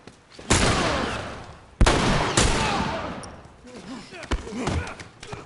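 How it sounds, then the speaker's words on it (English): An enemy fires at the player in The Last of Us Part II, with two sharp, loud, close gunshots that each leave a long decaying tail, followed by softer thuds and rustling movement. "that guy's shooting at me"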